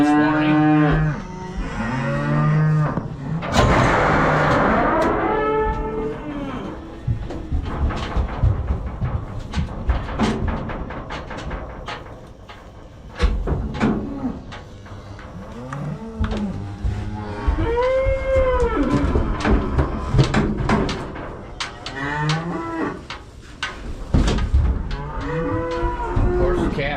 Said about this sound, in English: Cow's been home for a week with the calf, and now I've loaded both of them back up